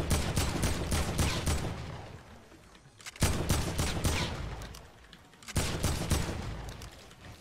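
AK rifle gunfire in the video game Fortnite: three rapid bursts of automatic shots, each fading off before the next, loud and close with no talk.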